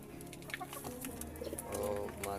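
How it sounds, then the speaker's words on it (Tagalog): Pigeons cooing nearby, soft throaty coos with some clucking-like calls, faint and close, under light background noise. "Mga siyaw ning kalapati okay."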